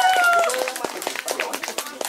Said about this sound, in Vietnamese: Chúc phúc cho hai người bằng một tràng vỗ tay thật to.